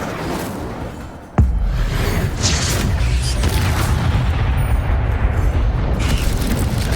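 A fire spell cast in Hogwarts Legacy bursts with a sudden loud boom, followed by a sustained roaring, crackling rumble of flames and mechanical game effects, with no talking.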